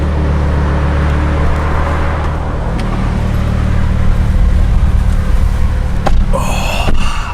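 An Audi R8 Spyder drives along with a steady low engine drone and road rumble, with a few sharp knocks near the end.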